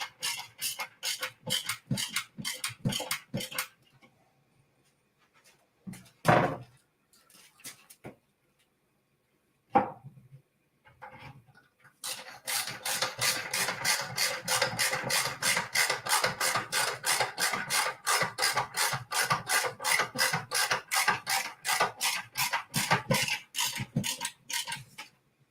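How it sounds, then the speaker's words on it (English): A ratchet screwdriver drives screws with rapid, evenly spaced clicking bursts, close and crisp. A short run of clicks is followed by a few seconds of near silence and scattered handling noises, then a long, steady stretch of fast ratcheting. "you got to get one of these ratchet screwdrivers"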